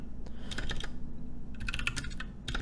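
Python code typed on a computer keyboard in two quick bursts of close, crisp key clicks separated by a brief pause, with no voices.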